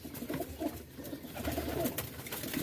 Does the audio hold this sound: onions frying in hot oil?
no